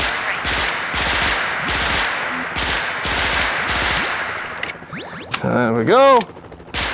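Rapid automatic gunfire from a rifle in the VR shooting game Bullets And More, sounding as loud, evenly spaced bursts, then a pause, a brief voice and a few sliding electronic tones.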